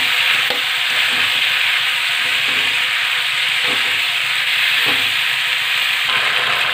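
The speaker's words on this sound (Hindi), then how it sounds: "और मेथी भी डाल देंगे और इनको अच्छी तरह मिक्स कर लेंगे" Mixed vegetables with fenugreek leaves sizzle loudly and steadily in a hot pan while a spoon stirs them, giving a few distinct scraping knocks spaced through the close, continuous hiss.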